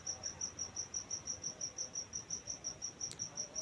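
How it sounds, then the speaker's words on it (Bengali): A cricket chirps outside on a dark night in steady rapid pulses, a thin shrill trill repeating evenly at moderate distance against quiet background hiss. "ঝিঝি পোকার ডাক"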